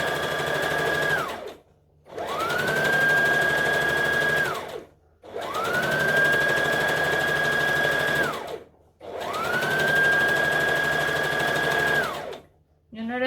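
A sewing machine stitches a seam on a top in four steady bursts of a few seconds each, a loud, even motor whir broken by brief pauses as the machine stops and restarts.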